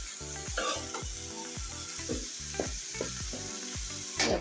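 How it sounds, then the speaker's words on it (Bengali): Bottle gourd peel and potatoes sizzle loudly in hot oil as a spatula stirs and scrapes the pan in quick repeated strokes, close up with no talking. "লাউয়ের খোসা আর আলু ভাজি এটা আমি অ্যাড করে দেবো। একটু নেড়ে ছেড়ে ভালো করে মিশিয়ে দিচ্ছি।"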